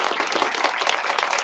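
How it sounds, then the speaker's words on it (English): Audience applause for Dr. Kendi at a Malcolm X centennial celebration, a dense, steady wash of many hands clapping close by, brief and continuous. "let's give our brother, Dr. Kendi, a round of applause"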